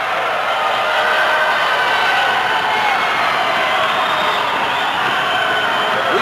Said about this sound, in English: And the crowd on their feet cheering Strongbow.